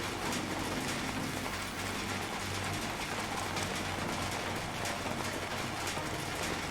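Steady rain falls in the SCUM survival video game, a dense, even hiss that lasts throughout with no break, and no voices are heard over it.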